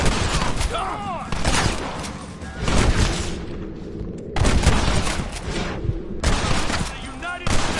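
Gunfire from the Red Dead Redemption video game, with loud repeated bursts of shots and booms in bunches and brief lulls between them.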